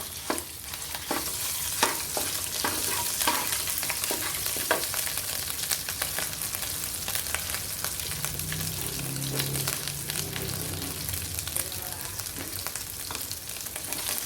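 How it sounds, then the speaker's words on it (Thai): Red curry paste stir-frying in a pan just used for frying fish, a dense continuous sizzle with rapid spatter crackles and scraping stirs throughout, a low rumble rising partway through. "ค่ะเราก็จะผัดพริกแกงเราให้หอมก่อนนะคะ"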